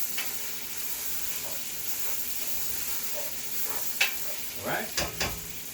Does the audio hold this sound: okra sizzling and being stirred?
yes